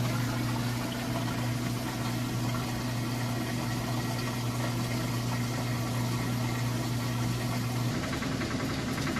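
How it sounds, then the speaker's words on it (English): An Amana washing machine spins with a steady loud hum and whirring drone, constant and close, shifting slightly in pitch near the end. "then it just goes right into the spin cycle."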